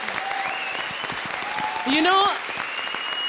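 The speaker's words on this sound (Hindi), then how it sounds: "जोरदार तालियां" Studio audience applause on a Hindi comedy show, steady dense clapping under a man's speech, with a brief louder swell in the middle.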